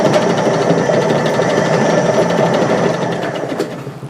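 A homemade drum sander, built for sanding the inside of a round porthole window, spins with a loud, steady whirring buzz and a slight rhythmic wobble, close up and alone, easing off near the end.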